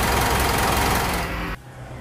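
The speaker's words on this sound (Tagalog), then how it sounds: "Okay guys, yun ang diesel blowby." A diesel engine with blowby runs close by with a steady, rough rumble, then cuts off abruptly near the end, leaving a faint low hum.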